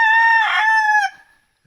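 A young rooster, a white stag, crows once in a single loud, close cock-a-doodle-doo with a strong harmonic call that fades out after about a second.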